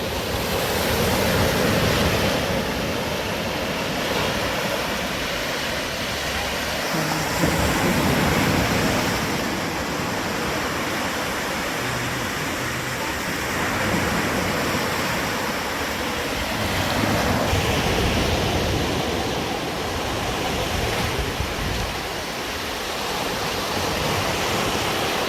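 Surf rolling onto a beach in the Seychelles, a continuous loud wash of breaking waves with swells rising and falling, mixed with wind buffeting the microphone.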